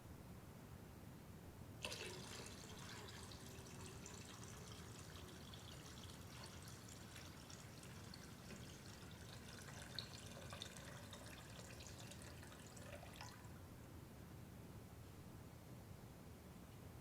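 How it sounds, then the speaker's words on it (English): Water is poured in a ceremony, a soft splashing trickle that begins suddenly, runs steadily for about eleven seconds and then stops, faint against a low background hum. "Today, I will pour the water of our tears"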